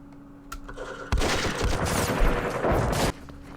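A loud two-second burst of rapid gunfire from the war game Campaign Series Vietnam, set at Dien Bien Phu, follows a short click and faint hum, then cuts off abruptly.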